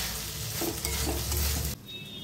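Rice and raisins sizzle and crackle in a hot pan as they are stirred, close and steady, before the sizzling cuts off abruptly near the end.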